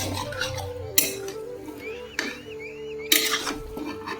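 A metal lid is set over a pot of cooking chicken, giving three sharp clanks spaced about a second apart over a faint background hum.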